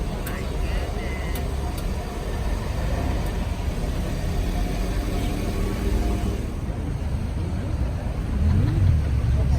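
A Rolls-Royce Dawn pulls out and drives off, its engine a steady low rumble blended into busy outdoor street noise, with a murmur of people around it.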